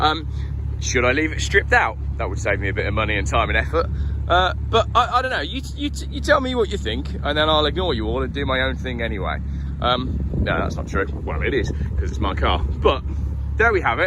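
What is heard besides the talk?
traffic noise from a nearby main road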